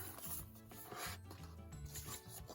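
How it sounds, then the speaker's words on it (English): Paper edges are folded and rubbed down over a dollar store photo album cover, making faint, close scraping and creasing sounds. "Now I am going to fold in my edges."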